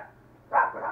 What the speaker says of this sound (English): the dogs think somebody is here